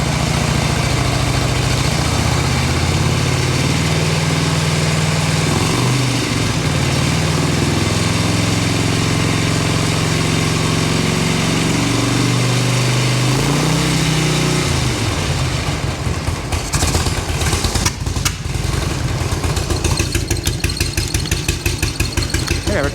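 A cold bagger motorcycle engine with a freshly swapped CV carburetor and intake runs loud and close in a shop, a steady uneven idle rumble that dips and sputters slightly in the last several seconds.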